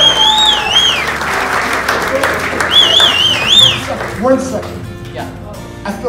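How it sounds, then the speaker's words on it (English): A comedy club audience applauds with sharp whistles rising over the clapping, then the applause fades as a voice speaks over the tail. "How about you give them a round of applause?"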